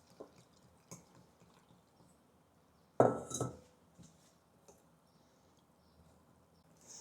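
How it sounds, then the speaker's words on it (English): Roti jala batter of flour, coconut milk and water being whisked in a bowl, with soft intermittent scraping and clinking and one louder burst of stirring midway, close and without talk. "mix together so that there's no lumps"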